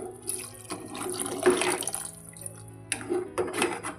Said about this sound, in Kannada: ನೋಡಿ ನಾನು ನೀರು ಹಾಕ್ತೀನಿ.